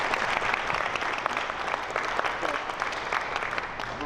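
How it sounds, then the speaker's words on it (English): An audience at a local dance competition gives a steady round of applause, dense even clapping filling the room without a break from start to finish. "but we'll give her a round of applause."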